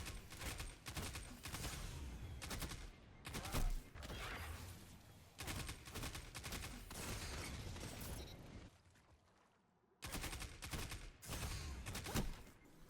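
Gunfire in the Destiny video game: loud, close shots come in rapid, dense bursts broken by short pauses, with one longer gap before firing resumes.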